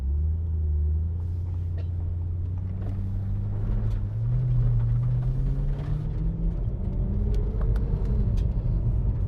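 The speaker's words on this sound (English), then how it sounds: "this car is loud. It is very, very noisy." A BMW E92 M3 GTS V8 pulls away in first gear from inside the cabin, a loud deep rumble climbing steadily in pitch as the revs rise, with no talking.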